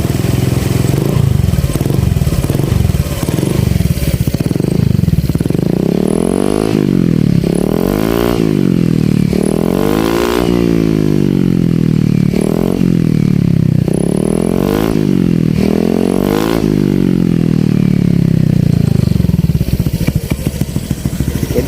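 A motorcycle fitted with an aftermarket Kaizo exhaust revs repeatedly on its center stand, the engine note climbing and falling in loud, rough waves over a steady rumbling idle.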